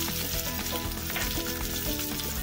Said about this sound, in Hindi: प्याज को मैंने स्लाइटली घी में भून लिया है